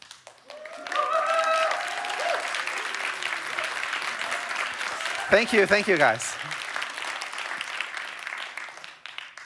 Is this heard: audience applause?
yes